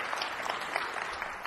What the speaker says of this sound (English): Round of applause for Miss Betsy Barbeau